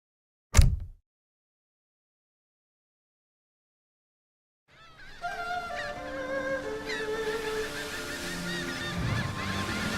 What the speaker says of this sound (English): Gulls fill the sky.